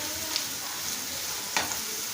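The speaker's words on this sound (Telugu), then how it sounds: "క్రిస్పీగా అయ్యేంత వరకు మనం ఫ్రై చేసుకోవాలి" Bitter gourd frying in a pan gives a steady, close sizzle, with a couple of brief scraping stirs of a spoon breaking through; no talking.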